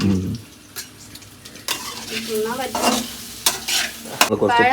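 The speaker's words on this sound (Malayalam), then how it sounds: "ചട്ടകം കൊണ്ട് നല്ലോണം ഇളക്കി കൊടുക്കുക" A spatula stirs food in a frying pan, producing loud, close scraping strokes over a bright sizzle, with a few squeaky scrapes and a quiet start before the stirring begins.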